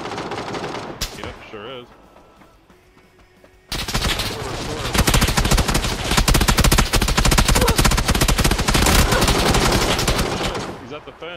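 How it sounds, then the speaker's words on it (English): Video game gunfire, rapid loud automatic bursts that erupt suddenly after a quieter stretch and rattle on continuously, with a player speaking briefly before the shooting starts. "Shots."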